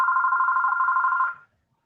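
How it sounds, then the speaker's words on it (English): A landline house phone rings loudly and close by in a steady electronic trill, then stops abruptly partway through with silence after. "that's my house phone."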